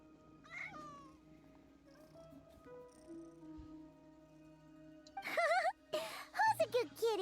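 A cat meows several times near the end, short rising and falling calls up close, after quieter faint sounds and a brief voice earlier.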